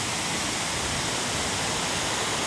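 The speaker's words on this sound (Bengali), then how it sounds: "ঝর্ণার ডাকটা দেখছেন, খুবই ভালো লাগে। বিশাল বড় একটি ঝর্ণা," A huge waterfall at Lubuk Timah hot springs in Perak, Malaysia, pours as a continuous, even broadband roar, steady and enveloping, with no voices over it.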